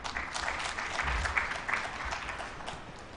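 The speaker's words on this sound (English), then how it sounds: "Another round of applause as he steps up." Audience applause at a national agroecology symposium as a crop protection commissioner steps up, a brief, moderately loud burst of clapping that fades toward the end.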